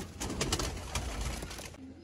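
Pigeons coo in a steady, soft murmur close by, low rolling calls overlapping continuously in a pigeon-keeping setup.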